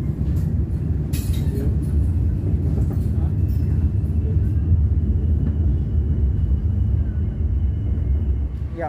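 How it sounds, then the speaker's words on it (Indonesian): KA Baturraden Ekspres business-class train pulling into Kroya station, heard from inside the carriage as a continuous deep rumble and low mechanical drone, with a brief metallic squeal early on and no voices. "perjalanan kereta api Baturaden yang saya naiki saat ini telah tiba di stasiun Kroya"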